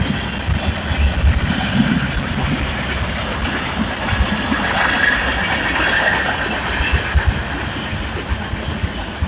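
A KCS SD70ACe freight locomotive and its train pass close by, a loud steady rumble of diesel engine and rolling wagons with faint rail clatter, continuous throughout without voices.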